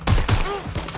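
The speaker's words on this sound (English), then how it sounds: "Shot fired." A gunshot in the video game Watch Dogs Legion, several sharp bangs in quick succession over about a second, loud and close, with game music and effects behind.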